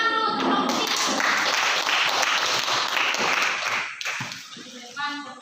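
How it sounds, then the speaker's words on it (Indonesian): A classroom of students applauding for group 3, dense close clapping that fills the room for several seconds before thinning out, with voices mixed in. "Tepuk tangan dulu untuk kelompok 3."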